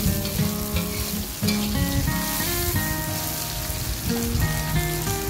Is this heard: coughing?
no